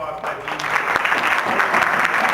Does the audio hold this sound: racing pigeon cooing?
no